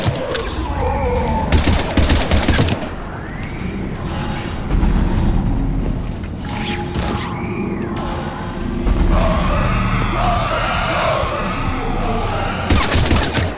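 Heavy gunfire rattles through a Mass Effect 3 battle, loud rapid bursts and explosive impacts layered over rumbling chaos and game effects, nearly continuous across the whole stretch.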